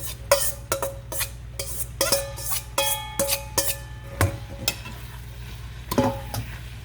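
Meat and vegetables fry in a pan while a utensil stirs them, producing a soft sizzle punctuated by repeated ringing metallic clinks and scrapes against the pan.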